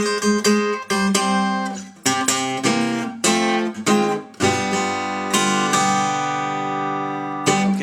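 Acoustic blues guitar plays the opening of a song in a Delta style, plucked phrases with ringing notes and short breaks between them, close and solo with no voices.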